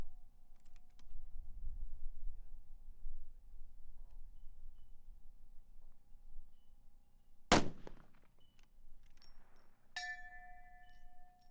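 A long-range rifle cracks once, sharp and loud, at an extreme-distance shooting match, and a couple of seconds later a faint metallic ring sounds as the bullet strikes a steel target.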